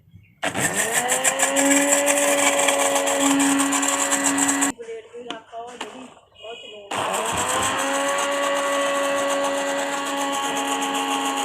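A blender grinding egg for homemade mayonnaise whirs loudly in a steady high-pitched grinding run, stops briefly while someone speaks, then starts up again and keeps spinning.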